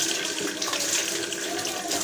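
Water runs from a kitchen tap to make tea, a steady, close rushing splash that carries on without a break and with no voices.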